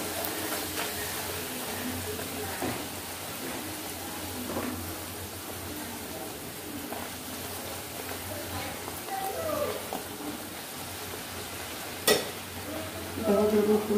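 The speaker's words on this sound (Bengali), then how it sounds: "আমি ওখানে তেল গরম বসিয়ে দিয়েছি, আর পুরি ওখানে ভাজা শুরু হয়ে গেছে।" Puris frying in hot oil for breakfast, a soft steady sizzle and bubbling running throughout at moderate level, with occasional clinks of utensils and brief sounds near the end.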